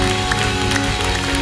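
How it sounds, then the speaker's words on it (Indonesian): A church congregation at an Easter service claps for Jesus, giving dense, steady applause that fills the room, with a faint voice under it. "berikan tepuk tangan yang paling meriah bagi Yesus Tuhan kita"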